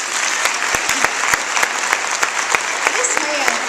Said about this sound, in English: if y'all would clap for Mitch Clemens for me